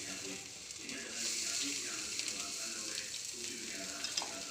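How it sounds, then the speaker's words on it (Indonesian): A freshly flipped fish fries in a pan with a continuous, even sizzle, close and moderately loud, with a few light crackles and pops over several seconds. "Kita balik ikannya."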